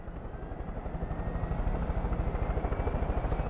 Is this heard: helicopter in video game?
yes